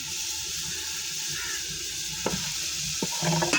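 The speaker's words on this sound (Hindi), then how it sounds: "ये 1 चम्मच के करीब मिर्चें हैं, अच्छी तरह भून लेंगे।" Chillies and onions fry in a pan with a steady close hiss and crackle, with a few brief clinks and stirring sounds near the end.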